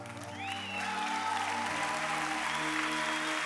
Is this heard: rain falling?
no